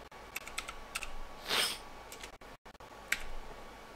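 Light, scattered clicks of typing on a computer keyboard, a few separate keystrokes close by, with a brief rustle in the middle and a steady faint hum underneath.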